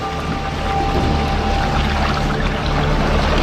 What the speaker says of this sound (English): After hitting the water and grabbing the fish, the game still isn't over for the osprey and its quarry.